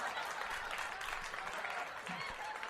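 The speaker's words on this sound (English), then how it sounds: "I get applause." A dense burst of crowd applause plays steadily throughout, full and continuous, with a faint voice briefly audible beneath it near the end.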